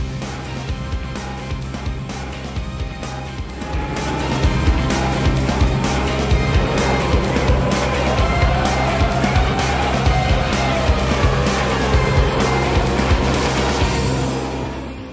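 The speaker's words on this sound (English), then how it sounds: "where spectators can see Formula One cars that are only a few years old" A Toro Rosso STR1 Formula One car runs at the Brno Masaryk circuit during a 2016 FIA Central European Zone championship event, its loud engine roar building after a few seconds and holding steady with sweeping shifts in pitch.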